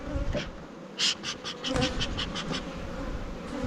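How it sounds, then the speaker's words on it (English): A close, steady drone of many honey bees buzzing in an opened hive, with a few sharper rustling clicks and bumps mixed in. "Good amount of bees."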